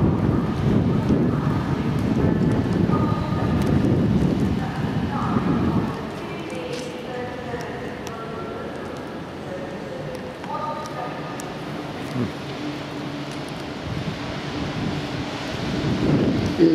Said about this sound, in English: It's still raining. Can it stop raining?